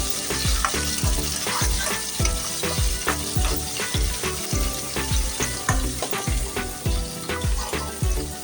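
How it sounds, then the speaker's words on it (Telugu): Dry red chilies and curry leaves frying in hot oil for lemon rice, a steady loud sizzle with rhythmic stirring scrapes repeating through the pan, no talking. "ఎండు కరివేపాకు కాసేపు ఫ్రై చేయనివ్వాలి."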